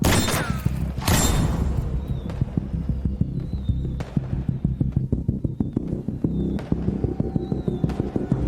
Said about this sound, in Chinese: 外面放鞭炮，不用管它